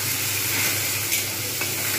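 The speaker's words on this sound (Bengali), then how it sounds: "দেখা যাচ্ছে ভাজা হয়ে গেছে পেঁয়াজগুলো খুব ভালো করে।" Onions frying in a pan for an omelette curry, a dense, steady sizzle and crackle heard close up, with a couple of faint stirring scrapes and no talking.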